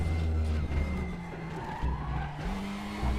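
Race car engine drones steadily while braking lightly into a corner at Imola in the sim racing game RaceRoom, the low engine tone dipping and rising with faint tire scrub, close and continuous throughout.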